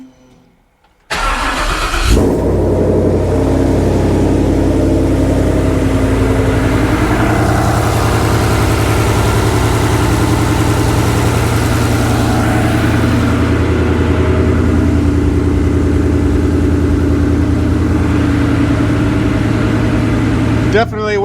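A Ford Ranger, freshly fitted with a custom fuel cell, cranks and fires up, then settles into a steady, loud idle that runs for about twenty seconds with no talking.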